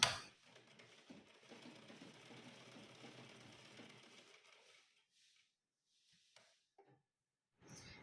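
Sewing machine running a stitch along a folded frill on a small Laddu Gopal dress, a close, quiet whirring hum for about four seconds, then stopping with a few faint clicks of fabric handling.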